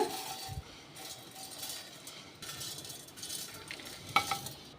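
Poha (flattened rice) is being dry-roasted in a pan, stirred steadily with a spatula, giving a continuous soft scraping and rustling with a few sharper clinks near the end, close and moderately loud, with no voices.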